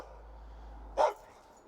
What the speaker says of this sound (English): The bark is a little bit deeper, not too much.